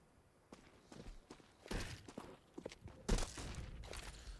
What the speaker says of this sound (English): Lots of footsteps heard in mid.